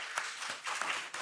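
A hall audience gives a short burst of clapping for two debaters at the close of a political debate, steady at moderate loudness.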